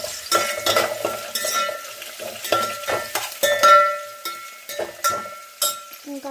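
Mint leaves fry and get stirred in oil in a pot for a light-masala chicken biryani, giving a steady close sizzle broken by repeated spoon scrapes and clinks against the pot.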